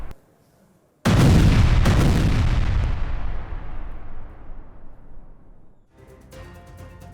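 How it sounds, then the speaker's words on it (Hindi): A single huge explosion from an Israeli air strike on Lebanon erupts after a second of quiet, with a loud rumbling blast that slowly decays over several seconds before a faint crackling tail. "लेबनान में 1600 से ज्यादा एयर स्ट्राइक, हिजबुल्लाह के 1400 से ज्यादा ठिकानों पर बमबारी की गई।"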